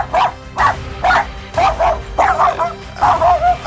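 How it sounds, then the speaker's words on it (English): Dogs barking in short, loud, close yips and bow-wows, about seven evenly spaced bursts with faint whimpering tones between them, no talking. "Whimper if you want to go on a date with Boomer."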